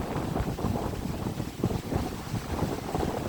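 Steady wind buffeting a microphone outdoors on Kalanggaman Island, a continuous low rumbling roar with slight gusty swells and no voices.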